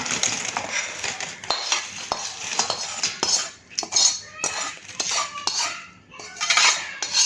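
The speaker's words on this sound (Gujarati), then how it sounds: "અને આને બરાબર આપણે ચમચા વડે મિક્સ કરી દઈશું." A spoon mixes fried peanuts and dry spices for a Diwali recipe, producing close, continuous metallic scraping and clinking against the bowl with irregular bursts and no talking.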